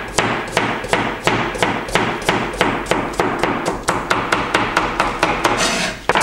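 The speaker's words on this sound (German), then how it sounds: "So, dann schneide ich auch noch dieses Radieschen auf." A knife chops a radish on a cutting board for a mixed spring herb salad, giving a steady run of about fifteen crisp, evenly spaced knocks, close and fairly loud, with no talking.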